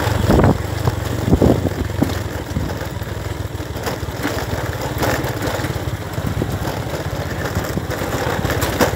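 A motorbike engine drones and revs steadily while climbing a steep uphill road, rough and close, with buffeting wind noise throughout.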